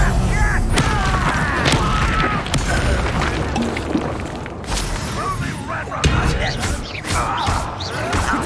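Spells such as Levioso, Incendio and Expelliarmus are cast in rapid succession during a Hogwarts Legacy battle, giving bursts of magical whooshes, crackles and impacts layered densely with clashing effects at close, loud range.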